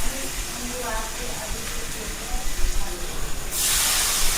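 A pressure cooker releases a sudden loud, steady hiss of steam near the end while spices cook inside, after a stretch of kitchen background with a voice in it.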